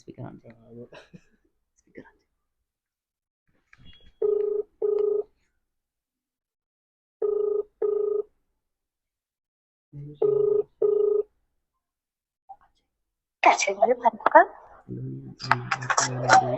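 Outgoing call placed on a phone's speakerphone, with repeated paired ring-back tones in three evenly spaced bursts, followed by voices and chatter once the call connects.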